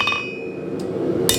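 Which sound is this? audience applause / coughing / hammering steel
hammering steel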